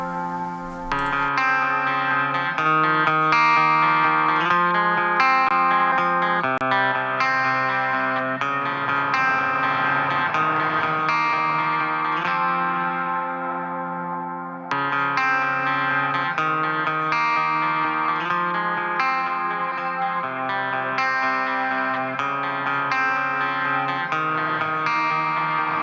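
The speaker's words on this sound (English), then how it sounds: "let's just hear what the reverb sounds like" An electric guitar through a JST Toneforge Misha Mansoor plugin playing sustained chords and notes drenched in reverb, the tails washing into each other, loud and continuous with a brief dip midway.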